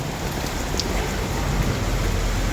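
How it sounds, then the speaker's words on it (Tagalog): Heavy, continuous rain pours down in a loud, unbroken hiss, with no voices or other sounds. "Gawa ng tuloy-tuloy yung ulan."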